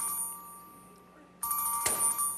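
Telephone ringing indoors on a comedy stage set, a faint electronic tone that bursts into a brighter, louder ring partway through with a sharp click, no speech over it.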